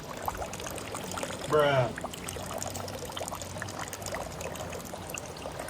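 Hakuba no Meisui spring water pouring from a fountain, a soft, continuous trickle in the background, broken by one short spoken word.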